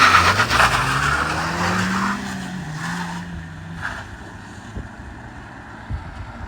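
Maruti Swift cars launch in a drag race, engines revving hard and tires squealing in a loud, close rush that fades into distant rumble and scattered noise.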